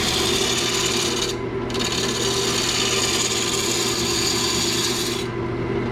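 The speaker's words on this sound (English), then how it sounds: "This Sorby gouge really cuts nice." A Sorby gouge cuts wood on a spinning lathe, giving a continuous close, loud scraping rasp with a steady motor hum underneath, briefly easing twice.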